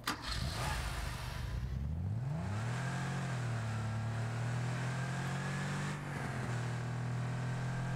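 A Rocket League car engine, from the Aston Martin DB5 or Valhalla bundle, revs up with a rising pitch and then settles into a loud, steady drone that continues to the end.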